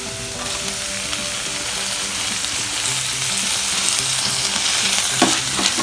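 Onion and tomato fry in a pan for bread upma, giving a steady, close sizzle with light stirring throughout and no voices.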